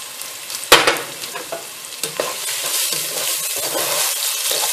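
Onions with salt and pepper frying for a black bean coconut cream soup, a close, steady sizzle punctuated by sharp clacks and scrapes of a utensil against the pan, loudest early on.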